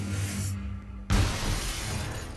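Bulletproof glass shatters under gunfire in the shooter game Wolfenstein: The New Order, a single loud crashing burst that cuts through a low droning game backdrop and leaves a dense, lingering crackle of debris.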